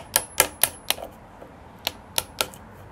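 A chisel chopping a mortise into wood for a garden trellis: sharp, separate knocks in an uneven series, close and crisp, with a short pause midway and no talking.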